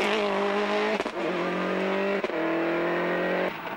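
A rally car is driven through the closing stages of an Irish rally, its engine revving in sustained high notes that drop sharply at each gear change, close and loud.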